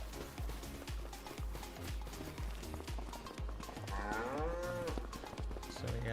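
Cows mooing in the Farming Simulator 25 farming game, a long low moo rising over a busy game soundscape with regular thudding, hoof-like clops and steady background noise.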